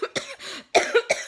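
A person coughs several times in quick, harsh bursts, close and fairly loud.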